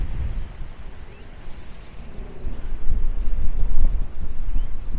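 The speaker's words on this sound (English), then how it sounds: "it's super, super windy today" Strong outdoor wind buffets the microphone in heavy, rumbling gusts that swell louder toward the end, beside an old grave in a city neighbourhood, with no other sound standing out.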